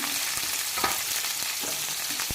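Green chillies and ginger sizzle in hot oil in a pan as the base for a hotel-style vegetable pulao, a close, constant crackling fry with a few stirring scrapes.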